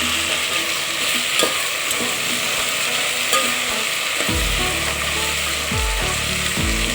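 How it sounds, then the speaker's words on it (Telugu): Tomatoes sizzling loudly in hot oil in a pan for vegetable biryani, with a spoon scraping and stirring through them in repeated strokes, close and continuous, no voices. "తర్వాత టమాటా వేసుకోవాలి."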